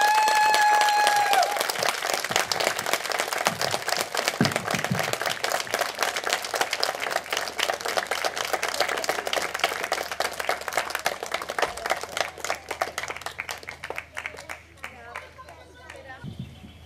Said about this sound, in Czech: Takže ještě jeden velký potlesk pro ní